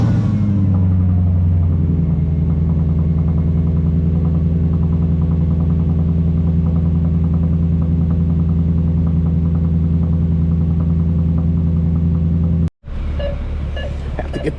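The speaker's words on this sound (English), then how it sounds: "let's get a cold start" A Mercedes CLK500 convertible engine cold-starts with a brief high whine, then settles into a loud, steady, deep idle. The idle cuts off abruptly near the end, leaving faint background sounds.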